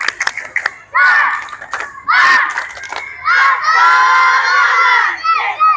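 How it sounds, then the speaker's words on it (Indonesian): A class of children at the end of a school lesson does a rhythmic spirit clap, with bursts of clapping broken by loud, close group shouts and cheers in unison. "Coba kita tepuk semangat dulu. Tepuk semangat."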